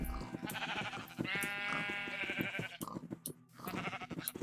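Sheep bleat in a farming video game as the flock wanders into the market, with loud, quavering calls repeating over busy background game sounds, layered and close.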